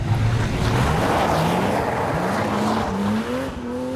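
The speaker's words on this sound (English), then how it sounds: "The surface area of rubber on those tyres, combined with 321 brake horsepower, can lead to some rather tail-happy slides." A 321-horsepower BMW M Coupe slides on a wet road. Its tyres squeal and hiss close by while the engine note climbs steadily through the revs, with no voices.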